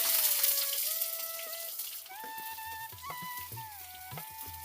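Sliced onions hit hot oil with dried red chillies and curry leaves for a beetroot coconut fry, giving a soft sizzling hiss that is strongest at first and then fades, with faint steady tones in the background.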